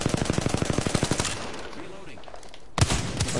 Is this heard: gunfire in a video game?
yes